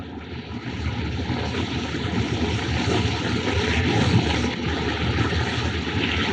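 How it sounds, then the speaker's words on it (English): Propeller airplane droning steadily overhead in a 1929 film, a constant broadband engine roar of even loudness with no voices over it. "Plane. Probably making a forced landing."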